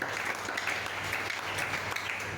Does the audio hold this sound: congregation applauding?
yes